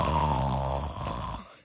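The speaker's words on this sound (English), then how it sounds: "I just heard the snoring of a giant monster on the other world." A giant monster's snoring as a cartoon sound effect, one long, deep, rumbling snore that is loud and close, then tapers off.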